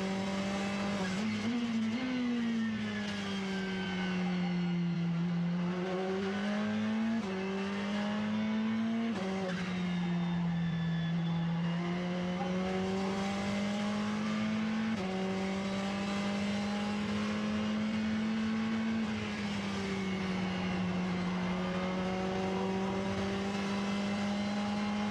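A Porsche race car at Road Atlanta comes out of a corner on full throttle, its engine holding a loud, sustained whine that climbs and dips with the gear changes, and its tires squeal faintly underneath.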